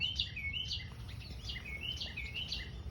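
Small birds chirp in a mid-October garden, repeated short high tweets in quick bursts, fairly faint and somewhat distant over a low background hum.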